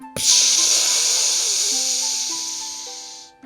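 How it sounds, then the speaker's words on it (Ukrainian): A balloon deflating: a long, steady hiss of air rushing out, loud and continuous for about three seconds before tapering off, with a faint squeaky whine running through it. "Кулька здулася, і звук налякав усіх."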